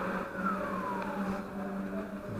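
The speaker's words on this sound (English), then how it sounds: "there are buses making quite a noise till late night" A bus drives past near a bus station below a cave dwelling on Madeira, its engine droning with a falling whine as it goes by at moderate distance.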